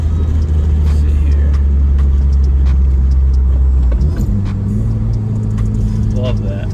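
Car engine and exhaust fitted with a CTS turbo downpipe, a loud steady rumble close by that drops in pitch partway through as it downshifts, with a voice talking over it.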